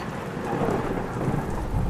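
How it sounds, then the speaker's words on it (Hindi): Steady rain falls with rolling thunder in a cartoon storm scene on a cold March night, a dense continuous wash of drops and low rumble with no voices. "इस मार्च के ठंडी मौसम में बारिश की क्या जरूरत है भला, समझ नहीं आता।"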